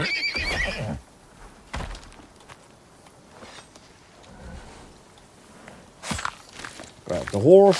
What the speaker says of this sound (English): I hear a horsey.